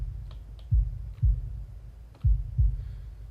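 Heavy, unsettling heartbeat thumps in the game Little Dead Riding Hood, two double beats a second or so apart, deep and close with faint clicks above and no other sound.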